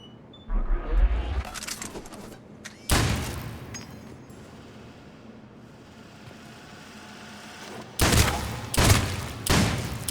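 Assault rifle fire from Mass Effect 3, heard as a few loud broadband bursts, one early and a tight cluster near the end, with a low rumbling game ambience between them.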